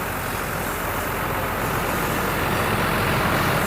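A fire department high pressure pump truck from the Jakarta fire and rescue service runs at the scene of a burned bus shelter, its engine and pump making a loud, steady, unbroken roar nearby.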